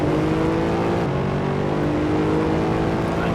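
Mercedes SLS engine in the racing game Assetto Corsa, a steady loud growl held at near-constant revs for a few seconds with a faint tonal whine and no talk.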